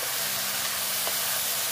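Eggplant curry sautéing in a pan, a steady, even hiss of sizzling oil that holds close and constant throughout.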